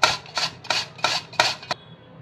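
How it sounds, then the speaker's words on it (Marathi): Peeled potatoes rubbed against a metal grater in a kitchen: five rhythmic, close, rasping scrapes at a steady pace, each a short bright stroke, ending with a quick final scrape and silence. "आता आपण काय करूयात की बटाटे किसून घेऊया।"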